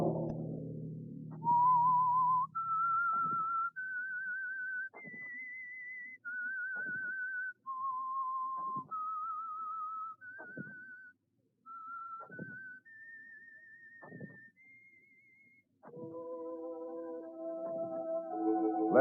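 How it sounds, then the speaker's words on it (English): A whistled theme tune of long, clear held notes stepping up and down in pitch, each separated by short pauses, ending as instruments enter, from the 1948 radio program The Whistler. "Let that whistle be your signal"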